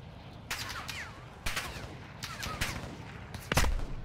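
Bursts of automatic gunfire crackle in Call of Duty Modern Warfare II DMZ, four separate volleys spaced about a second apart, fairly distant and moderate in level, with the last burst nearer and heavier.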